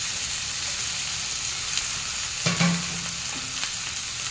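Mashed cauliflower sizzles steadily in a hot pan, with a spatula scraping and a brief clunk of stirring partway through.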